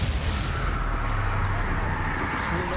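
A fiery blast spell in the video game Hogwarts Legacy erupts as a loud, dense, rumbling explosion that fills the short moment, with faint game voices underneath.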